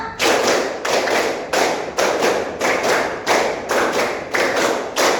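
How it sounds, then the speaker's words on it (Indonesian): A group claps in unison during a classroom icebreaker, with about ten loud, evenly spaced bursts of clapping running back to back and no talking. "3 kali tepuk 5."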